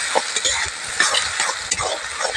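Sliced onions sizzle in white oil while a spatula stirs them through, steady frying hiss with repeated scraping strokes, close and alone without talk.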